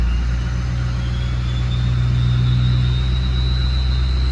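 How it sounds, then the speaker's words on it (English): A Ford 6.0 Powerstroke diesel engine runs with a steady low rumble and a faint high whine, rising only slightly as throttle is applied, close and continuous with no voices. "Let's give it some throttle."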